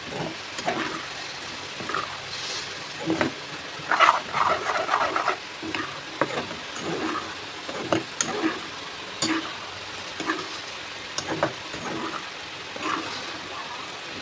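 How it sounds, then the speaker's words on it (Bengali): Spoon stirring bottle gourd curry with katla fish head in a pan, flavored with radhuni and cumin paste, giving a series of scraping, clattering strokes over a soft sizzle. "ভালোভাবে নেড়ে চেড়ে দেবো।"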